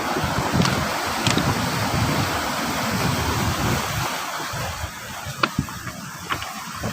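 Big ocean waves crash against a shore lined with coconut trees, a loud rolling surf rumble mixed with wind, with sharper splashes and hits toward the end and no speech.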